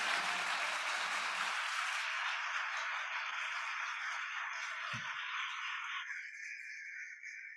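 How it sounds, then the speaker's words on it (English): Audience applause for a youth panel at a conference, a dense clapping wash that thins out and fades after a couple of seconds, leaving faint residual noise. "we should probably give this panel another round of applause"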